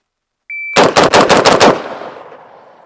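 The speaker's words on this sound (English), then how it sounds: "we're gonna see how fast we can shoot some 6-round strings with the SG36" An SG36 rifle on a shooting range fires a fast string of six shots, sharp and close, trailing into a fading echo. A brief electronic beep from a shot timer sounds just before the first round.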